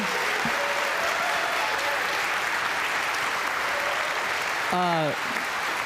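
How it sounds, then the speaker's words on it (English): A room full of people at a workers' forum for governor in Wisconsin applauds the moderator, steady clapping throughout, with a short voice or cheer cutting through near the end. "Can we just give a big round of applause to JT for this amazing moderation?"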